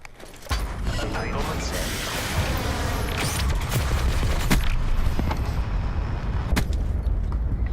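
Hellstorm missile scorestreak and gunfire in Call of Duty Black Ops 4, a dense, continuous roar of explosions, rattling fire and mechanical clatter with sharp cracking bursts throughout, loud and sustained.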